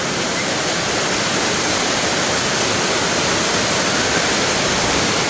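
Constant, loud rush of a small waterfall in Malappuram, Kerala, nearby, a dense unbroken wash of falling water with no pauses.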